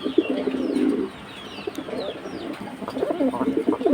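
Pigeons coo at a bird market. The high-flying breeds are in cages and coo in low, throaty rolls close by, with a few faint higher chirps and some rustling mixed in.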